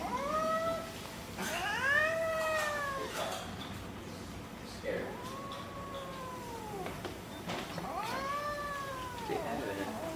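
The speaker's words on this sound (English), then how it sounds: "This cat is kind of insane." A house cat meows and caterwauls in long, drawn-out wailing calls that rise and fall, several separate cries spaced across the stretch, fairly close, over a faint background.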